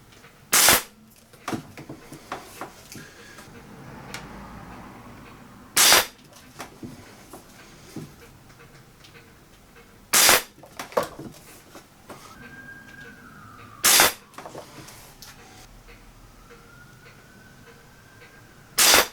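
A Walther LGR 10 metre target air rifle fired from a rest at a table, four sharp, loud shots spaced several seconds apart, with quiet handling sounds in between.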